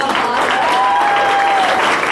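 Applause from a seated audience at a feminist awards gathering, a dense, steady wash of clapping filling the whole moment at even loudness.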